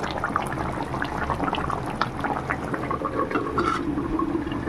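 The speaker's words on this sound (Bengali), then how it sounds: "দেখো কেমন ফুটছে দেখুন খুব জোরে ফুটছে" Rui fish curry boiling hard in a covered pan, a steady, busy bubbling and spluttering that stays close and constant with no voices over it.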